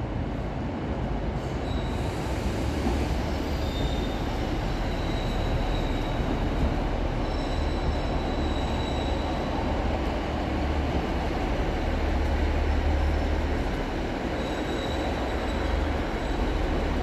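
A Class 155 diesel multiple unit passenger train rumbles into Hull Paragon station close by, a steady heavy roll of wheels on rails with faint high metallic squeals rising over it at intervals.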